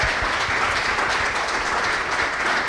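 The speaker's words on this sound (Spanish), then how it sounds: "Puede dar un aplauso al Señor por esa palabra." A church congregation applauds steadily at a Spanish-language sermon, a dense, even wash of many hands clapping close by with no pause, no talk over it.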